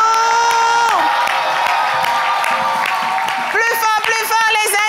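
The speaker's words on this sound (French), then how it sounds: "Est-ce qu'on peut l'applaudir bien fort?" A lively crowd cheers and claps for a performer at a televised show, with music playing alongside, shouts and whoops rising over the applause, and a host's voice heard briefly.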